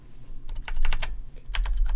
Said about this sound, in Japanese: キーボード打ってる音